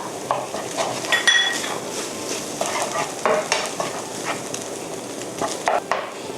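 A utensil stirs ingredients in a sizzling pan, scraping and clinking against the metal in irregular strokes, close and clear over a steady frying hiss.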